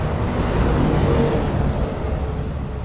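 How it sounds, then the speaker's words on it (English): Big trucks roll past on a road near a parked RV, a loud, steady low rumble of engine and tire noise that swells and slowly eases off. "Got trucks going by, hold on just a second. Big truck."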